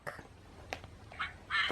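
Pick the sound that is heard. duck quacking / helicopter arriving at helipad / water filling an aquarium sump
duck quacking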